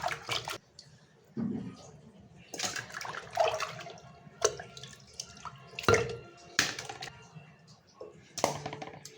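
Salted fish, a large koi, being rinsed by hand in water, with splashing and dripping in irregular bursts close by and a voice talking in between.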